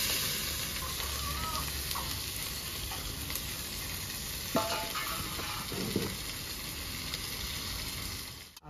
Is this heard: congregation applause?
no